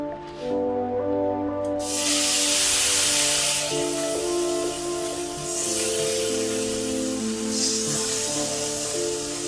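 Loud, steady sizzling hiss of ginger garlic paste frying in hot oil, continuous throughout with a brief quieter moment at the start.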